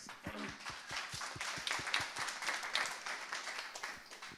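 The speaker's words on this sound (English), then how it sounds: "Everybody give QP a round of applause" Small audience at an evening of software mini talks clapping for the next speaker, a quiet, fairly sparse patter of hand claps with a few distinct individual claps standing out.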